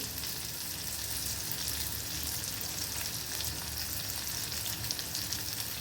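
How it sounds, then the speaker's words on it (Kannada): Finely chopped ginger fries in a pan with a dense, steady sizzle that holds close and loud for the whole stretch, broken only by faint stirring scrapes. "ಇದ್ರೊಳಗೆ ನಾನು ಸಣ್ಣಗೆ ಕಟ್ ಮಾಡಿ ಇಟ್ಕೊಂಡು ಶುಂಠಿ ಹಾಕತೀನಿ."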